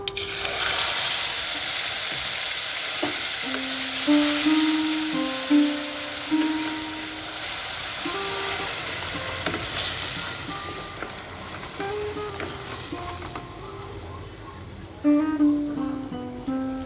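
Two medium onions' worth of onion paste fries in hot oil with a mustard seed, curry leaf and dried red chilli tempering, making a steady, close, rain-like sizzle throughout with a few light clinks.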